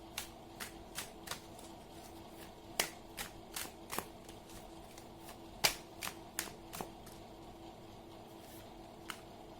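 Tarot cards being handled for a reading, giving a run of sharp, close snaps and flicks at an irregular pace, some louder than others, over a quiet room with no talk.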